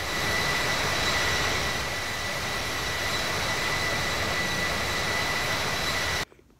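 Steady roar of airliner jet engines in climb shortly after takeoff in the flight simulator Infinite Flight, a loud constant drone with a faint tonal whine that cuts off abruptly at the end.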